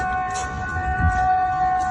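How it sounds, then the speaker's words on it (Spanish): Air-raid sirens sound at a US military base in Jordania as a steady, sustained wail heard from some distance over low rumbling background noise, with no voices. "Sirenas antiaéreas sonando de fondo"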